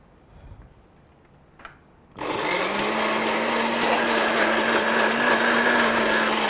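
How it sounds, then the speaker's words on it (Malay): A kitchen blender starts up abruptly with a hard whir and then holds a loud, steady motor drone while blending ingredients with a little water for a Malaysian dish, running alone without talk. "Awak blender dulu."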